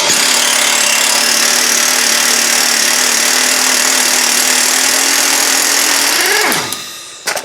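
Impact gun running on the rear shock bolts of a 2001 Buick Park Avenue, a loud, steady mechanical whir lasting several seconds before winding down abruptly near the end, with no talking.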